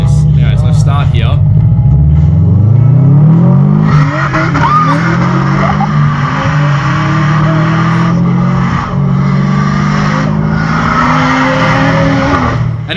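A ute accelerating hard from a standstill with the engine revving loud and climbing, tyres squealing and scrabbling for traction, and the roar sustained close up for several seconds as a person talks over it.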